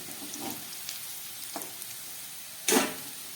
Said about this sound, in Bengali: খুব ভালো করে ভেজে নিচ্ছি। আলুগুলো একদম ভাজা হয়ে গেছে।